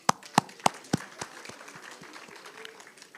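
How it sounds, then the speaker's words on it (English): Hands clapping at a teachers' union provincial general council, a few loud sharp claps at a slow even beat, then softer scattered claps fading into the room's murmur. "Let's clap hands."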